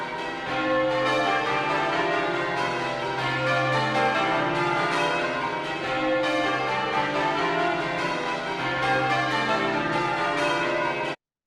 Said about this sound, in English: It's got a very proficient team of bell ringers